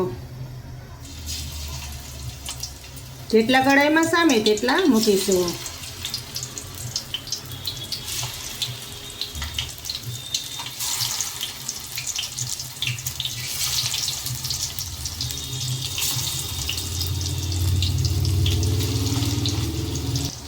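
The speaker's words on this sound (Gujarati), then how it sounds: "તેલ સરસ ગરમ થઈ ગયું છે તો તેમાં એક એક કરીને કબાબને મૂકી દેશો" Hara bhara kababs are set one by one into hot oil in a kadai, giving a steady hissing sizzle and bubbling that runs throughout, with someone speaking over it.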